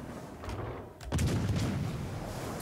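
Battleship main guns fire in World of Warships Legends, a sudden deep boom with a rumbling tail breaking through a steady background of engine and sea noise, heard without talk.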